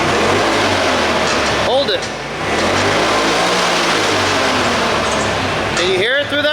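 A vehicle engine runs steadily and loudly close by, a constant drone that holds through the whole stretch, with a voice briefly speaking over it.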